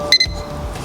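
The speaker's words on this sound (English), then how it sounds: "One mod that I hate is this beeping sound" Aftermarket VLS OLED gauges in a Subaru WRX STI give a short electronic beep, two quick high tones close together, followed by faint cabin hum.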